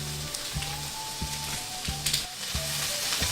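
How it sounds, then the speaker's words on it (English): Onions frying in a pan with a spatula: a steady, close hiss of sizzling oil runs throughout, over a low, regular thumping beat. "And now we're throwing in the onions."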